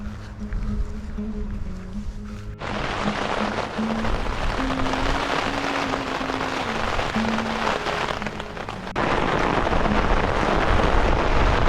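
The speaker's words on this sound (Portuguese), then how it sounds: "Tá chovendo, já faz uma hora e pouco." Rain pours down steadily on an open boat during a storm while paddling solo around an island, a dense close hiss that swells louder partway through and continues without talk.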